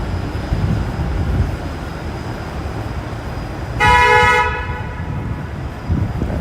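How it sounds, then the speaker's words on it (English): A Toronto streetcar sounds a loud horn blast of about a second, standing out against steady downtown street traffic noise. "That streetcar is honk happy."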